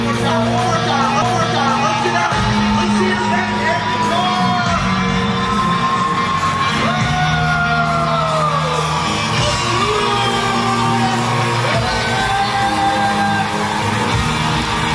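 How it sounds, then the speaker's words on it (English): Real estate conference audience cheering and whooping to welcome a speaker, loud continuous yells and shouts from many people with music-like sustained tones underneath. "Let's give Jeff Mays a giant round of applause and welcome to Tom X."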